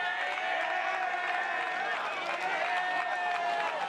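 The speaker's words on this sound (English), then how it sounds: "you can hear that Wisconsin crowd fired up." Wisconsin crowd at a junior men's freestyle wrestling final in Fargo, a steady roar of cheering and shouting from many voices in the arena, with voices audible amid the din.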